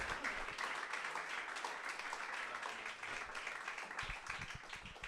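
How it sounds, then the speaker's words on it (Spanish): A church congregation claps together in a steady, fairly distant wash of applause that holds for about five seconds, with a few lower thumps near the end. "Denle un fuerte aplauso al Señor, amén, por la vida del siervo."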